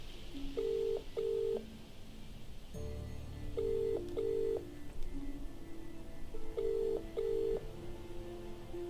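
Phone box keypad dialing in the video game Contradiction: three pairs of short electronic beeps, each followed by a low tone, repeat across the stretch, fairly quiet with no talking.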